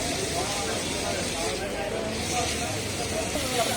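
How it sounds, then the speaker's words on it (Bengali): Boneless chicken pieces lightly coated in spices fry in hot oil with a continuous dense hiss and crackle, steady throughout, as someone talks in the background. "বনলেস করে হালকা একটু মশলা দিয়ে তারপরে আমরা চিকেনটা ভেজে নিচ্ছি"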